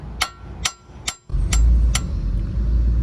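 A hammer strikes a stuck outer tie rod on a 2006 Nissan Maxima with a six-speed: five sharp, ringing metallic blows spaced about half a second apart, close and loud, over a low background rumble.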